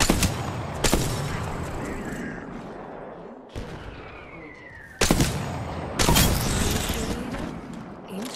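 Bursts of gunfire from the Apex Legends video game, loud and close, with sharp volleys at the start and a heavy rattling stretch near the end, a brief lull in the middle.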